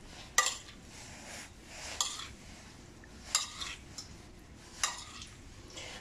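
A spoon clinks against a dish while jelly is added, giving about five faint, separate taps spread out at irregular intervals over quiet room noise.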